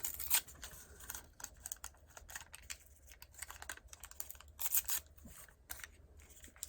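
Scissors cutting the edge of paper for a vintage-style notebook craft, a series of close, crisp snips and rustles in irregular bursts, with no talk.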